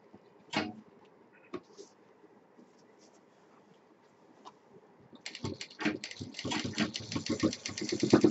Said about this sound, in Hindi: अब इसको हम यहाँ पर सिलाई मशीन चला के फाइनल कर देंगे।